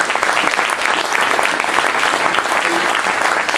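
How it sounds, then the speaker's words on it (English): A round of applause at a Lacey Rotary annual meeting, a dense, steady clapping from an indoor audience that stays loud and even throughout, without talk. "Dustin really deserves this big round of applause"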